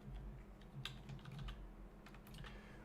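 Slow, uneven typing on a computer keyboard beside a storage server, a scattering of light key clicks with short pauses between bursts, quiet over a steady low machine hum.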